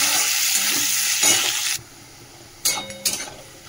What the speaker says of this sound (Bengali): চলো পেঁয়াজটা ভাজা হোক।